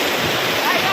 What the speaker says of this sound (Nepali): हामी चाहिँ निबुवा खोलामा आएर भयङ्कर पौडी खेल्दैछौँ।